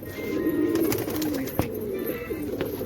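Hungry pigeons coo softly and repeatedly over a few seconds, a low burbling call close by against a light background hiss.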